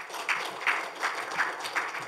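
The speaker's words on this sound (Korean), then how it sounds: "박수로 맞아 주십시오." Audience applause greeting a professor as he steps up to present at a basic-research forum, a steady crowd clapping at moderate distance with no talk over it.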